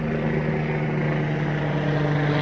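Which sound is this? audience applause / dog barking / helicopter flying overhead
helicopter flying overhead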